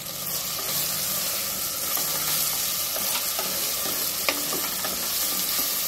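Chicken and green chillies going into a hot pan for chicken salna, giving a steady, close sizzle with a few light clicks of stirring and utensil contact, and no talking.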